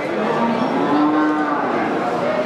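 A young Madura bull of about three quintals, offered for sale as a sacrificial animal, gives a loud, close, drawn-out moo that lasts the whole stretch, with no speech over it.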